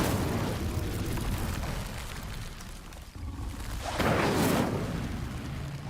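Hogwarts Legacy's Incendio fire spell sends out roaring, crackling bursts of flame, with a heavy whooshing blast swelling late and then fading.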